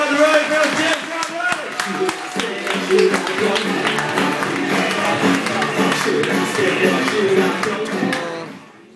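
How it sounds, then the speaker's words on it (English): A comedy club audience at the Frog & Bucket in Preston claps and cheers in a sustained, loud round of applause that fades out at the end. "on the count of 3, you start a round of applause"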